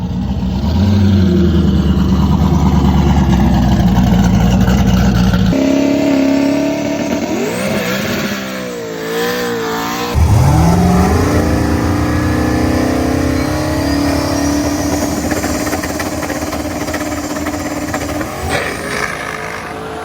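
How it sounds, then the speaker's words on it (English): Drag race car in a heads-up no-prep event, engine loudly revving and idling at close range, then a burst of acceleration and a long run fading into distant engine roar. "We're going to make some hits with Matt's car now."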